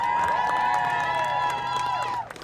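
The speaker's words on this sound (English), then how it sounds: "let's just give a round of applause to Dawit." Crowd at a youth solidarity rally for Black Lives Matter cheering and whooping for a speaker. A sustained shout rises over scattered clapping, then cuts off.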